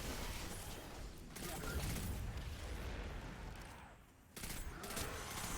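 Dense, continuous gunfire from a Destiny 2 firefight against enemies, loud bursts and explosive booms packed together with a brief lull near the end before the shooting resumes.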